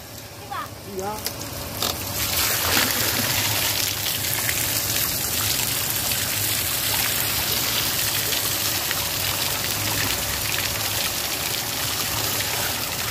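Water pours and splashes steadily over freshly harvested water spinach being washed, a continuous close rushing sound with a voice briefly at the start.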